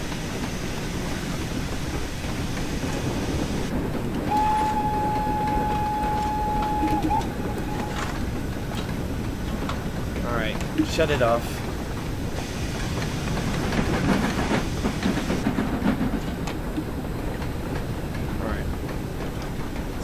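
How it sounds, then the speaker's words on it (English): LMS Fowler 4F steam freight locomotive pulling in on the West Somerset line in a train simulator, a steady rumbling roll with a sustained whistle-like tone partway through and a spoken voice over it. "And the train's here."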